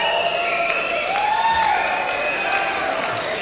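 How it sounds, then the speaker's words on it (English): Arena crowd at a boxing match applauding the ring card girl between rounds, a steady, dense wash of clapping and cheering that holds at an even, fairly loud level for the whole stretch, with a brief whistle-like tone rising midway. "That applause is not for the fighters, it's for the lovely young round girl"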